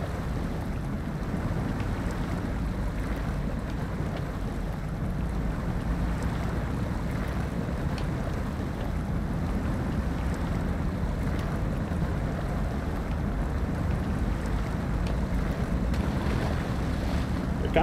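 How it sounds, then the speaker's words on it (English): A RAM truck in SnowRunner pushes through swamp water, producing a continuous low engine rumble mixed with steady sloshing and splashing that holds at an even level throughout. "We're kind of just pushing through this water, which is pretty crazy when you think about it."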